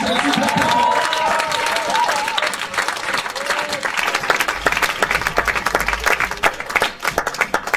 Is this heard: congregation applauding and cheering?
yes